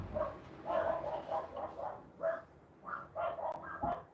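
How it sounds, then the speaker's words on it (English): Dogs bark repeatedly indoors near a gaming setup, a string of moderately close barks in an irregular rhythm with short pauses between them. "Sorry about the dogs."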